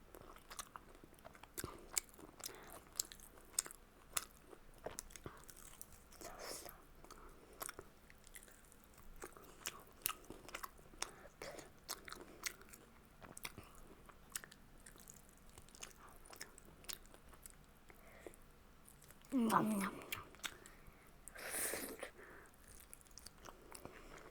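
Close, quiet chewing of spicy crispy fried chicken with frequent soft crunches and bites repeating irregularly, and a louder crunch or two near the end.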